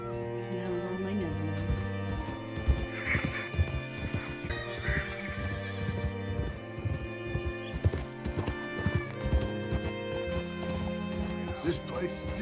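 Horse hooves clip-clop steadily at a riding pace in the Red Dead Redemption 2 video game, with occasional whinnies, under a musical score and people talking.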